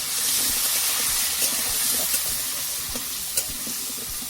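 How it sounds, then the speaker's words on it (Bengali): Cubed potatoes fry with a pinch of turmeric in a pan, a steady close sizzle and hiss broken by a few soft scraping stirs, with no voices. "আলুটা লাল লাল করে ভেজে নেবো"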